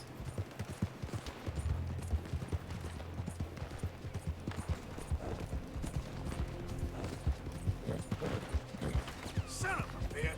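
Horse hooves clip-clop at a gallop in Red Dead Redemption 2, a steady rapid beat under game ambience with occasional gunfire-like bursts and someone talking over it.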